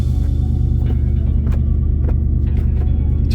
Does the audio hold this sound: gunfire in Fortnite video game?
no